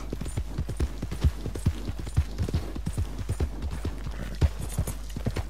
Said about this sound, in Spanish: Con el caballo este cochambroso que ni siquiera es el mío.